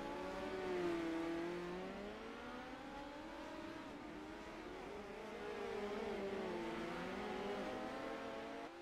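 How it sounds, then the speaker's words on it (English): A midget race car turns laps at the Chili Bowl, its engine note rising and falling as a steady, moderately distant whine that runs for several seconds without speech. "There's the 10 car of James Rice turning laps"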